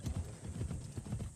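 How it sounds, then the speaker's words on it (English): A mechanical horse in Assassin's Creed Shadows trots with steady, rhythmic clip-clop hoofbeats, a continuous even gait heard close and clear over a soft ambient game backdrop. "I'm just gonna run around using this mechanical horse"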